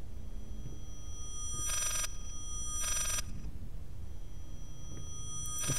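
An old telephone bell rings twice in the horror video game Layers of Fear, two short, bright, rattling bursts about a second apart over a low, murky ambient hum, fairly faint and with no talking.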